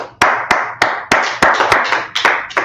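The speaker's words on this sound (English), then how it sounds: "Let's clap it up for that." An audience clapping in a sparse, uneven rhythm, about nine loud, close slaps spread over a few seconds.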